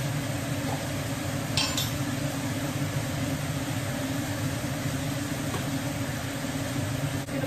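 Meat cooks with coriander powder and ginger garlic paste as it is stirred. A steady, dense sizzle runs throughout with a faint scrape or two, close and fairly loud, with no voice.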